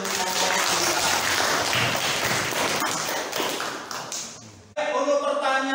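A classroom group claps together in a sustained burst of hand applause during an Islamic religious lesson quiz. The clapping is loud and dense, then cuts off abruptly near the end.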